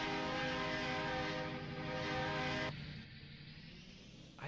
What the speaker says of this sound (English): take the train horn off this truck before he sold it to me